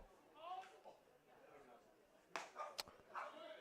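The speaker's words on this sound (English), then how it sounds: "There's a very loud barking dog off just below the grandstand" A dog barks a few times at a distance below a baseball grandstand, faint and intermittent, beneath a voice talking over light background noise.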